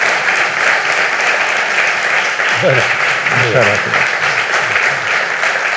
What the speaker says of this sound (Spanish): Pues un aplauso para nuestro...